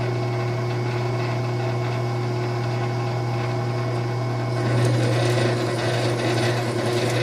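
Metal lathe turning with the carriage feeding under the engaged half nut while machining an aluminum fuel tank filler neck: a steady motor hum and whine with mechanical rattle, growing a little louder and busier toward the end.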